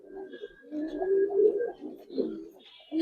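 A Giribaz pigeon coos in a few low, rolling phrases, close and fairly clear with no talk over it.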